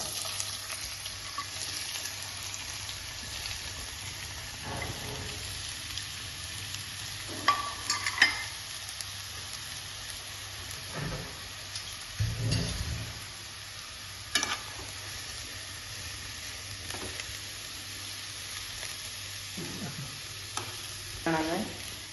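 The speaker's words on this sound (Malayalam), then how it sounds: "ഇതിൽ തന്നെ ഞാനിതാ ഒരു 4 ഉള്ളി കട്ട് ചെയ്ത് വെച്ചതാ ചെറുതായിട്ട് ഇതിലേക്ക് ഇട്ട് കൊടുക്കാം." Chopped onions frying in sunflower oil, a steady close sizzle throughout with intermittent stirring scrapes and clinks from a utensil, and no talking.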